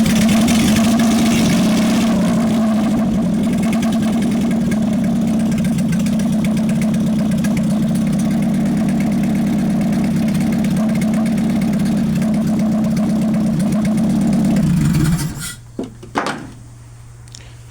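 A 1935 Austin 7 Ruby engine, revived after sitting for 45 years and wired to 6 volts with choke pulled, runs with a steady loud close chugging drone that cuts off abruptly near the end, leaving brief clunks.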